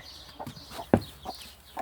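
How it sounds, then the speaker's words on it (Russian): Hen clucking to call her chicks to a feed of millet in a backyard pen, a few soft repeated clucks with one sharper note, close by over a low background. "Ай, курочка, давай. Зови своих цыпляток."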